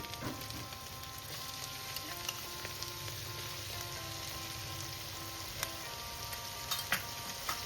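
Ginger and crushed garlic frying in oil in a pan over very low gas heat for Bengali arhar dal with vegetables, a steady soft sizzle with occasional light stirring ticks, close and without speech.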